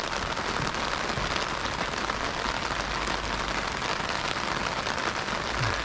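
Heavy rain falls steadily on and around a camper van during a road trip, a dense, loud, unbroken hiss of drops with no voices.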